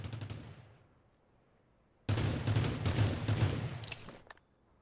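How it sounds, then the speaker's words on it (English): Bursts of automatic gunfire in the battle-royale game Rules of Survival, a first rapid volley fading out, then after a pause a dense, loud string of shots lasting over two seconds, ending in a few sharp cracks. "I heard shots to my right."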